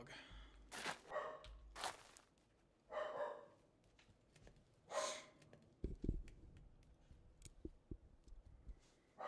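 A dog indoors barking in several short, sharp bursts at loose intervals, fairly faint, followed by softer snorts and scuffling sounds, with no talk over it.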